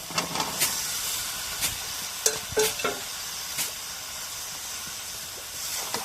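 Cooked spice paste tipped into a hot pan and stirred, sizzling and hissing steadily with scattered scraping stir strokes and clanks of the spoon against the pan, fairly close, with no talking.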